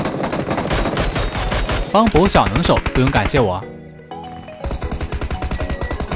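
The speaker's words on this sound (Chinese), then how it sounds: "外面有枪声打斗" Gunfire in the Peace Elite mobile battle royale game, a dense burst of rapid repeated shots in quick bursts, with a person talking over the shooting and game music running underneath.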